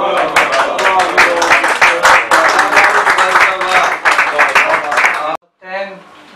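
Sustained applause from an audience at a tribute gathering for Dr Sayyed Tanvir Bokhari, loud and dense for about five seconds, then cutting off abruptly before a brief murmur of voices.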